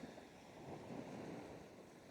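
Ocean waves wash and retreat on a beach in a steady, soft broadband rush with faint wind, continuous and distant-sounding, with no voices.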